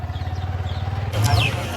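A motorcycle engine runs with a steady low pulsing throb, then swells louder and rougher near the end, with voices faintly in the background.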